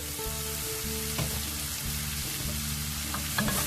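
Spicy squid stir-fries with sesame oil, a steady close sizzle with scraping stirs and light clinks of the utensil against the pan.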